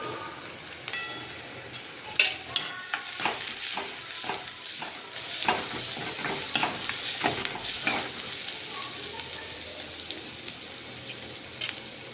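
Onion and garlic slices fry in a pan for Khandeshi brinjal bharit, a soft background sizzle broken by scattered sharp crackles and pops, close and fairly quiet with no talking.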